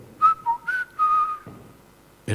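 A person whistles in imitation of a blackbird's pre-dawn song, giving a few short clear whistled notes and a longer sustained one, close and alone, before a brief burst of breath or voice at the end.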